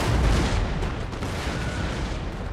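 Canister shot fired by artillery in the Empire: Total War battle game, a dense loud rumbling barrage of booms and crackling bursts that is strongest at the start, then settles into a sustained roar.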